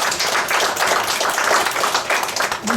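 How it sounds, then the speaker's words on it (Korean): Dense applause from an audience at a theological school graduation ceremony, many hands clapping steadily and fairly loud throughout the short stretch. "우리 모두 박수로 격려해 주시기"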